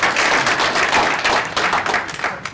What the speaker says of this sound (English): Round of applause for Ian and for Adam.